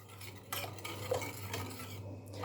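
A spoon stirs a soft cinnamon yogurt dough for a Turkish yaş kömbe pastry, giving a steady scraping, clinking swirl in a bowl, moderately close with a low kitchen hum underneath and no talk.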